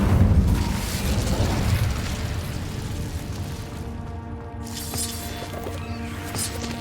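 Incendio fire spell going off in Hogwarts Legacy, a loud rushing burst at the start that settles into a sustained crackling roar with faint tonal hum beneath, no voices.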